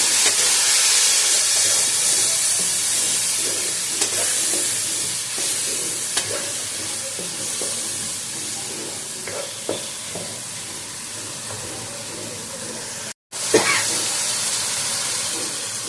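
Chili, cumin and coriander powders sizzle loudly in hot oil in a frying pan for a fish and potato curry, a steady close hiss with faint stirring scrapes and a brief dropout near the end.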